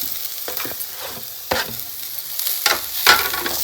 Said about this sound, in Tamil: இப்போ நல்லா ஃப்ரை பண்ணிக்கலாம்.